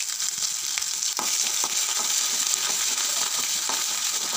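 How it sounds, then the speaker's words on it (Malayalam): Crushed garlic, ginger and green chili fry in hot oil for a mango-free chili pickle, giving a steady close, bright sizzle with a few soft stirring clinks and no talk. "ഇനി അതിക്ക് കുറച്ച് വെളുത്തുള്ളി, ഇഞ്ചി, പച്ചമുളക് ചതച്ച് ഇട്ട് കൊടുക്കുന്നുണ്ട്"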